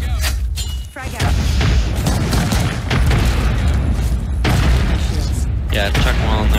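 Booming frag grenade blasts and heavy combat noise from an Apex Legends match, several loud bursts stacked close together amid mechanical clatter, with players talking over the action.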